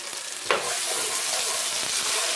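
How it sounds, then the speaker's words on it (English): Plenty of minced garlic sizzles in melted butter in a pan, a dense, steady frying hiss after a brief clack of a utensil near the start. "Mix that into the butter."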